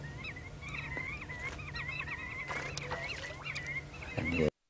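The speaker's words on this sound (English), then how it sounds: "hear the birds starting up again." Repeated honking, goose-like bird calls sound steadily over a low background hum during an outdoor safari drive, fairly close and moderately loud, ending with a short louder rustle.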